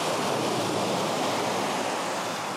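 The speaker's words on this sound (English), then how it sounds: "but the waves coming in," Ocean surf washes in and draws back in a steady, dense roar that fills the whole stretch without a break, with some wind noise mixed in and no voices.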